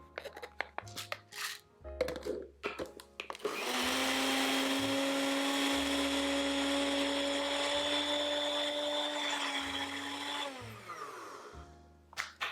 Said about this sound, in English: I have a cup of rolled oats here, and I'm just going to grind these up real quick into a flour.